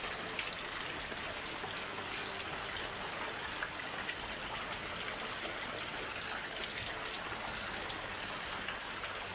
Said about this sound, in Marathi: मध्यरात्रीपासूनच हा सगळा तुफान पाऊस पडलेला आहे